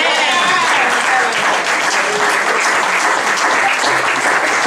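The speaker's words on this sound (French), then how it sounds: "Applaudissons le Seigneur" Congregation at a church seminar applauds the Lord, a loud sustained round of clapping filling the room, with faint voices and cheers mixed in.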